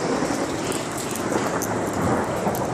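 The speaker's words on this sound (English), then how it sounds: "There's thunder and lightning!" Heavy rain pours steadily during a thunderstorm, with deep rolling thunder rumbling underneath, loud and continuous without pause.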